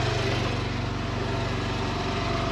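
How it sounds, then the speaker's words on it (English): Porsche 911 Carrera S Cabriolet 991.1 with PDK and switchable sports exhaust running, a steady dense engine drone with fine rapid pulsing, loud and continuous with no talk. "it also automatically engages the switchable sports exhaust"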